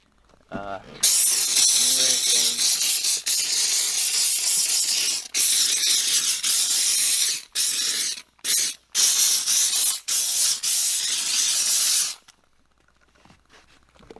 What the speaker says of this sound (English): kind of just spraying it all over the stains.